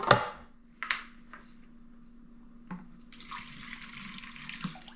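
A couple of clunks and taps, then a steady stream of water pouring close by into a hummingbird feeder, running softly for a few seconds.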